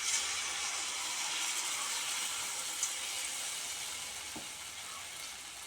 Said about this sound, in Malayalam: ഓയിൽ നല്ലപോലെ ചൂടായിട്ടുണ്ട് നമ്മൾ ഇതിൽ ഓരോ തവിയായിട്ട് ഒഴിച്ചു കൊടുക്കാം